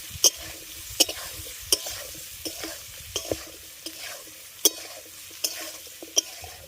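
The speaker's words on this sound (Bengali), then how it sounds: "তেলের মধ্যে আমটাকে খুব ভালো করে কষিয়ে নিলাম" Mango pieces for a sweet and sour mango pickle frying in oil in a wok, a close, steady sizzle broken by regular sharp scrapes of stirring about once a second, with no speech.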